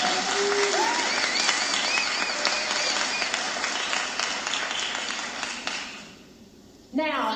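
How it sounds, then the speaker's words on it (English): Steady applause from a conference audience at a digital marketing event, filling most of the clip with dense clapping and crowd noise before fading near the end, followed by a brief sound. "Give them a round of applause for making the day happen."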